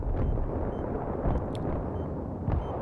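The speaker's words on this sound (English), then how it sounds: "all the friggin' gunfire and explosions and everything going on around you" Battlefield 3 Rush match on the Tehran Highway map, a dense continuous rumble of distant explosions and gunfire with a few faint sharper cracks, no clear voices.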